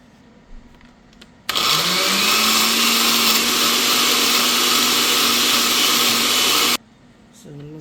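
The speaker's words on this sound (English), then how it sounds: "So I have it in the blender now." A blender whirs loudly and steadily for about five seconds as it blends rice, its motor pitch rising as it spins up, then cuts off abruptly into quiet room sound.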